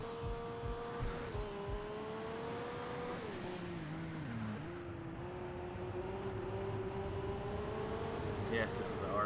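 RB26-swapped Supra engine in Wangan Midnight racing, a sustained close engine tone rising and falling through gear changes, with a dip in revs midway before pulling again; a voice talks over it.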